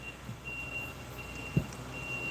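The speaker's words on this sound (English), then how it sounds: "And my slider's open and there's something beeping." A semi-truck parked nearby gives off a thin, steady high beeping that repeats in long even tones over low road rumble, heard faintly through an open sliding door, with one soft knock.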